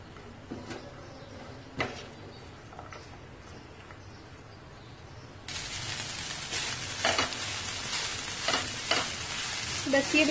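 Chopped onion and green chilies stirred into minced meat qeema for samosas, first quiet scraping and clinks in the pan, then a loud steady sizzle once the ingredients hit the heat, with spatula strokes and no speech.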